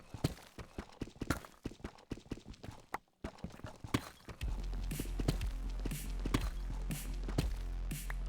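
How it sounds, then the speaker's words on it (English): Blocky footsteps of another player in Minecraft, a string of crisp separate steps at a walking pace, close by, then a steady low rumble sets in beneath them. "I'm hearing footsteps to my right"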